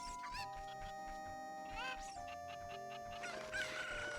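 A chicken in the video game Ocarina of Time clucks and squawks over layered game music, with the bird's cries rising near the end.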